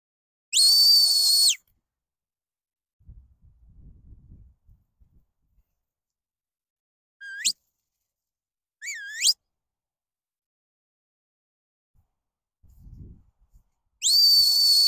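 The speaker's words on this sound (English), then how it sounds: "that's just reaffirming the whistle commands and things" Shrill sheepdog whistle commands for a border collie come as a long blast, a short upward chirp, a warbling double note and a final long blast, spaced apart, with faint low voices and rustling in the gaps.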